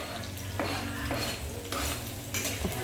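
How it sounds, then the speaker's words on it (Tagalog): Garlic stirred in a pan with a utensil, scraping and clinking against the metal in bursts as it sautés before onions go in, a soft sizzle running underneath with no talk. "gising-gisa halo-halo na po natin yung bawang"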